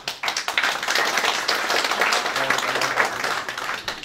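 Continuous clapping from the crowd at an Eskişehir Karachay association general assembly, a dense, even patter that stays fairly loud throughout with no clear talk over it.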